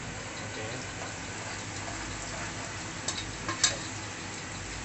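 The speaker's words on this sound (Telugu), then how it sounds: "ఇప్పుడు కొన్ని పచ్చిమిర్చి, ఒక 2-3 పచ్చిమిర్చి కట్ చేసి వేసుకోవాలి." Two or three chopped green chilies hit a pan of oil browning to a reddish color, giving a steady close sizzle and frying hiss with a few brief louder spits near the end.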